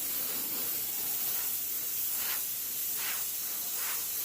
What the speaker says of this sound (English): Notice I'm using an overlapping spray pattern.